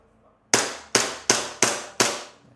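Five sharp airsoft Glock 18 pistol shots fired one at a time in semi-auto, evenly spaced about a third of a second apart, each a crisp snap with a short decaying tail, loud and close with no voices.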